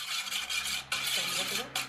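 Oil and egg whites being stirred into a dough mixture in a bowl, brisk scraping and swishing strokes in quick repeated bursts with a short pause partway through.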